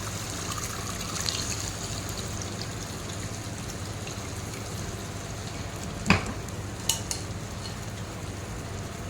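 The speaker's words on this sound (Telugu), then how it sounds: "ఇప్పుడు నేను ఇందులో చింతపండు గుజ్జు వేస్తున్నాను ఇలా" Tamarind pulp goes into a fish curry cooking in a pan, with a soft, continuous simmering hiss and one sharp utensil clink followed by a couple of lighter taps.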